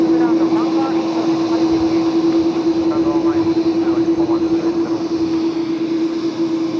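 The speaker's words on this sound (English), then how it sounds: "that China Airlines is so loud" A loud China Airlines jet airliner roars steadily and close at Tokyo Haneda, a strong sustained engine tone running throughout with people talking over it.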